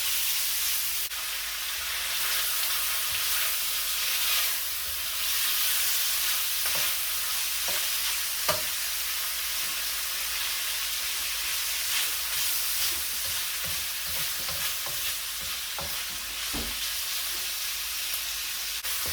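Pre-cooked sausage crisps in a pan for fried rice, giving a continuous broadband sizzle with occasional sharp clicks and spatula scrapes, steady and fairly close.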